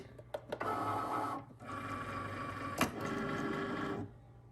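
A Cricut machine cutting faux leather gives off a steady mechanical whir broken by brief pauses and clicks as the carriage moves, heard up close and alone at low volume.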